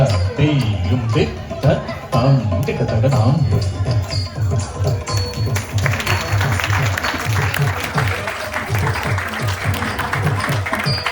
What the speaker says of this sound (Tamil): சூப்பரா பண்ணா பெரிய கைத்தட்டல் கொடுத்துருங்க